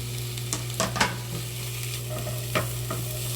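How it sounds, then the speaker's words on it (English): Onion hits hot oil on high heat, giving a steady close sizzle and frying hiss, broken by a few sharp clicks and scrapes of stirring. "There goes the onion on high heat."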